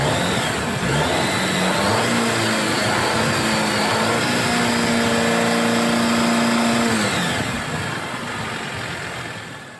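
A 2019 Jeep Wrangler Sahara Unlimited with the 2.0 L turbo four-cylinder engine pulling away and accelerating on the road, the pitch rising steadily through the gears before the engine settles and fades, heard from inside with no talking.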